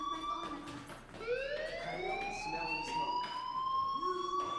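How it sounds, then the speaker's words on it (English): Fire alarm in the video game Life is Strange sounding a continuous, steady electronic wail that rises in pitch and holds, loud and close with game ambience and brief knocks around it. "do you hear that fire alarm? That means you should be outside."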